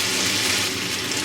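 Pasta water is poured into a pan of aglio e olio pasta with chopped garlic, giving a brief, loud, close rush of splashing liquid.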